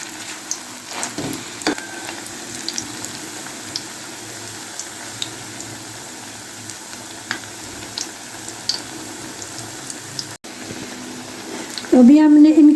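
Pakoras fry in a modest amount of hot oil, a continuous soft sizzle with occasional clinks, and a voice speaks near the end.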